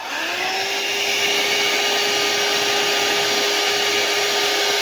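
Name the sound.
hair dryer heating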